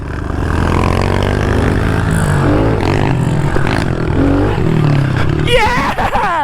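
Stock and big bore pit bikes race around a backyard track, engines revving and buzzing continuously with shifting pitch, loud and close, while people talk excitedly over them.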